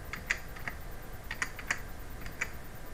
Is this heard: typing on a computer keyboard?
yes